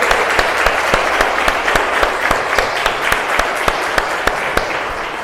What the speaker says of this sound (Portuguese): Glória a Deus, aplauda forte.